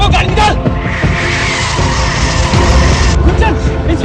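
A car speeds away with tires skidding and squealing, loud and close, with voices speaking over the engine noise.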